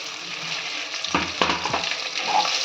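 Onions, green chillies and curry leaves sautéing in hot oil, a continuous close sizzle with a few stirring scrapes and knocks in the middle, no voices.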